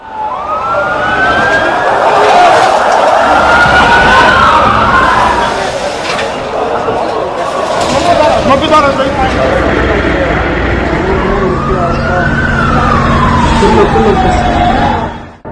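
An ambulance siren wails through a rubble-strewn area after an Israeli strike in Lebanon, its rising and falling tones sweeping loudly and steadily amid traffic and crowd noise, with voices heard beneath.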